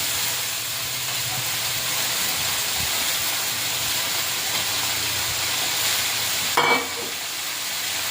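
Cut okra frying in a pan for a prawn curry, a steady close hiss and sizzle throughout, with a brief sharper burst of crackling near the end.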